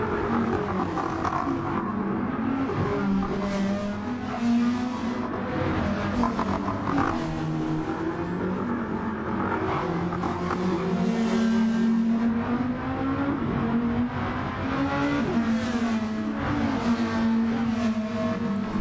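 A touring race car, number 96, runs flat out down Bathurst's Conrod Straight during a 2023 Track Stars Touring Car Series Bathurst 1000 round. Its engine holds a loud, steady droning note that climbs and dips slightly throughout, with no talking.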